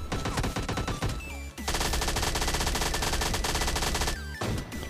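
Rapid automatic gunfire from the MP5K submachine gun in PUBG Mobile Lite, dense sustained bursts with a brief pause near the middle, loud and close, with music or game sounds underneath and no talk.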